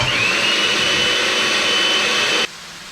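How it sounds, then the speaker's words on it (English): Electric hand whisk whipping four egg whites to stiff peaks, a loud steady high-pitched motor whine that runs unbroken for about two and a half seconds, then cuts off abruptly. "Our 4 egg whites, electric hand whisk,"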